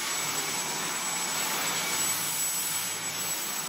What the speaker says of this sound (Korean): 자취방은 무선청소기가 답입니다.